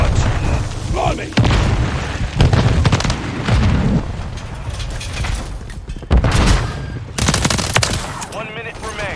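Heavy gunfire and grenade and Semtex explosions in Modern Warfare 3 War Mode, rapid bursts and booming blasts that keep coming close together, with shouted in-game voice callouts mixed in.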